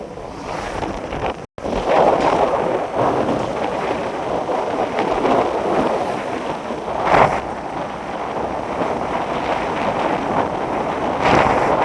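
Strong wind buffets the microphone in loud, roaring gusts that swell and ease throughout, with no talking.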